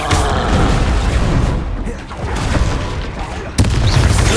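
Confringo blasting spell explosions in the Hogwarts Legacy video game: dense, loud rumbling blasts back to back, briefly easing near the middle before a sharp new burst near the end.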